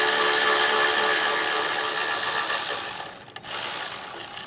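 Ratchet with an 8mm socket loosening a horn bolt on a 2018 vehicle, a steady close whirring click run that pauses briefly near the end.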